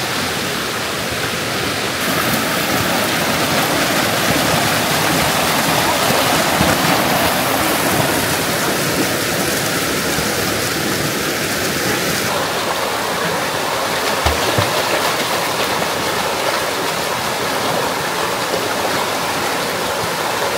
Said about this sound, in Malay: Sungai yang ni kita cari.